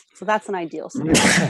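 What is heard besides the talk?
sneeze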